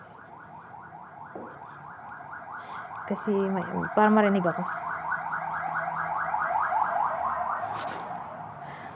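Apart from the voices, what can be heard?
ambulance siren passing outside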